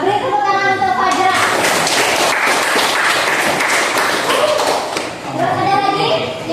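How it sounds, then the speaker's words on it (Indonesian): Classroom applause for a student named Fajra during a lesson on the spread of Islam in Indonesia, loud and continuous clapping with children's voices mixed in, fading toward the end as talk resumes. "beri tepuk tangan untuk Fajra"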